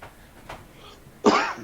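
A single sharp cough bursts out near the end, close and loud, after a quieter stretch with a faint earlier sound, at a live outdoor show in Rachel, Nevada.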